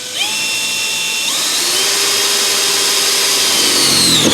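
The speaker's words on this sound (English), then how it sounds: "let's start our drilling process" A power drill boring a hole through a truck floor, a loud continuous whine that steps up in pitch twice as the bit bites and speeds up, held steady to the end with no talking.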